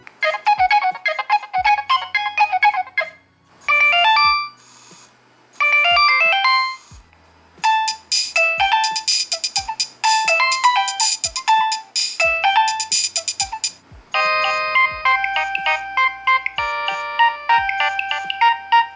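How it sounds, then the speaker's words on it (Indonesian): A Nokia 3100 phone plays a polyphonic MIDI ringtone, a loud, bright, synthetic melody of quick repeated notes with a steady beat, continuing close and clear for the whole stretch without talk. "Terus dia punya kemampuan untuk memutar polyphonic, MIDI file. Jadi ringtone-nya tuh suaranya khas banget."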